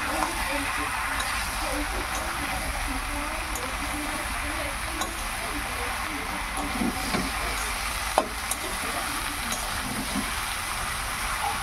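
Jackfruit curry frying in oil in a pan while being stirred, with a steady sizzle and hiss, soft scraping and a couple of sharp clinks, under someone speaking.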